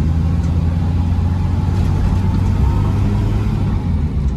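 A Bedford HA van drives into Durham, its engine giving a steady, loud, low rumble from inside the cab, with constant road noise and no pauses.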